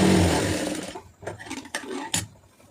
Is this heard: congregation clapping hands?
no